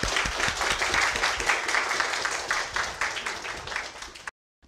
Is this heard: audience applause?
yes